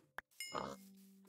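Pigs in a modded Minecraft game give a short grunting oink, followed by a burst of noisy clatter and a lingering low tone. The game sounds are quiet and come alone, with no talk over them.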